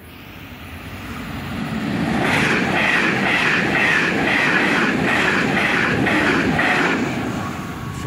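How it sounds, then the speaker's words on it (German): Two Class 1440 electric multiple units run through as an S1 service to Breisach on the Höllentalbahn near Freiburg, passing a level crossing. The rumble swells loudly and stays steady, with a rhythmic clatter of wheels over rail joints as the carriages go by, then begins to fade. "Zwei 1440er als S1 nach Breisach."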